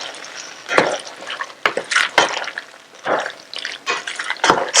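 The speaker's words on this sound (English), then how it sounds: "Stir it well." Wet squelching and scraping as palak gosht, a mutton and spinach curry with frozen spinach, is stirred in a pot, an irregular close sequence of sloshing strokes with no talk.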